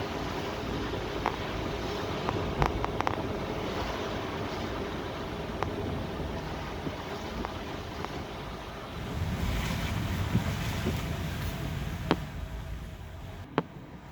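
A Honda e electric car drives through slushy snow in a snowstorm, giving a steady, close rushing hiss of tyres in wet slush with wind-like roar and a few faint clicks, no talking.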